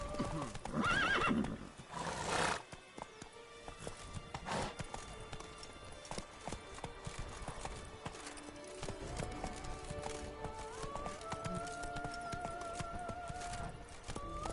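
A horse gallops in The Witcher 3, with rhythmic hoofbeats and a loud neigh near the start, then steady clip-clop running under swelling game music.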